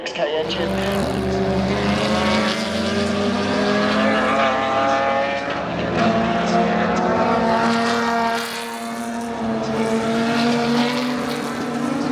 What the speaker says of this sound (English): just to let you hear some of the engines going around this track are unreal